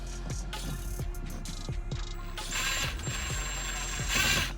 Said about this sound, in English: I've used some short self-tapping screws